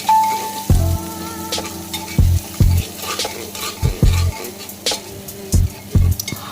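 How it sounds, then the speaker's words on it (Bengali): Spices fry in hot oil for goat curry, a steady sizzle broken by repeated scraping strokes of a spoon against the pan, close and fairly loud, with no talking. "ভেজে নেব মানে যতক্ষণ না ভালো করে ভাজা হচ্ছে ততক্ষণ ভাজতে থাকবে"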